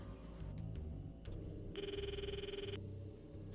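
A telephone rings in the Steins;Gate 0 video game, a bright electronic trill lasting about a second amid soft clicks and low background music.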